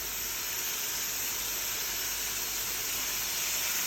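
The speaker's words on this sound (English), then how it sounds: "these are now going to go in the hot pan" Steaks hit a hot pan with a loud, steady hiss of sizzling that fills the whole stretch without a break, close up and with no voices.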